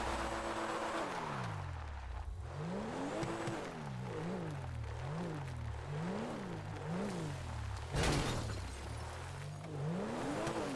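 A sports car in the GTA V video game revs and accelerates through repeated gear changes, its engine pitch climbing and dropping in a steady wave, with a sharp crash or bang around the eighth second.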